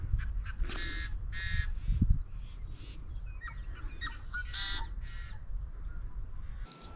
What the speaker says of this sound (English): All I hear are all of these hidden birds.